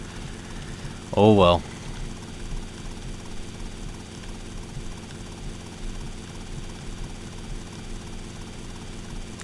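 Helicopter flying in GTA Vice City, a continuous low rotor and engine drone running steadily under a short spoken remark.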